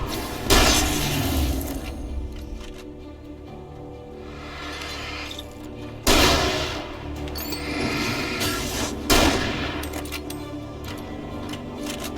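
Gunfire from the video game Alan Wake: three sharp, loud shots spaced several seconds apart, each trailing off into a long ringing decay, with no voices.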